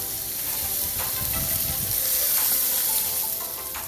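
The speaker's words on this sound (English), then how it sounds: "Smash burgers are cooking." Smash burgers frying on a NexGrill Evolution infrared grill, a loud, steady, close sizzle that hisses on without a break.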